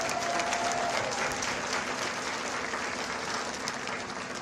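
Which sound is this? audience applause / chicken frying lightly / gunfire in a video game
audience applause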